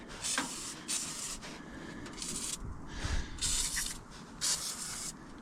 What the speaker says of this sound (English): Let's go ahead and spray this throttle linkage.